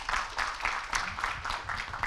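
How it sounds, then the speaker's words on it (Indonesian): A student audience at a university orientation event claps together, a dense, steady round of applause from a fairly close crowd lasting a couple of seconds. "Tepuk tangan untuk kita semuanya."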